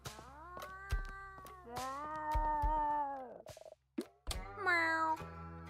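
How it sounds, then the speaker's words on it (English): A cartoon cat in the video game Sushi Ben gives a run of high, drawn-out meows, some wavering, close and clear with short pauses between them. "Little cat noises. Just meow."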